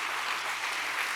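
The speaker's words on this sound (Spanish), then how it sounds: "Dele un fuerte aplauso de alabanza a Jesús." A church congregation at a worship service applauds in praise. Dense, continuous clapping from many hands fills the room evenly at moderate volume, with no voices standing out.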